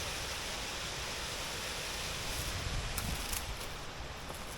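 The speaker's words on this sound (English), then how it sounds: "That river's cool." A river rushes through a steep ravine near Mount Greylock in Massachusetts, heard as a continuous, even wash of broadband water noise at moderate distance with no voices.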